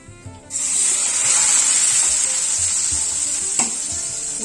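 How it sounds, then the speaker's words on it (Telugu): Onions go into hot oil as a tempering for gongura pachadi, and a loud, close, steady sizzle bursts up after a moment of quiet, with a brief clank or stir partway through. "ఉల్లిగడ్డలు ఇట్లా నూనెలో వేసుకోవాలండి పోపులా"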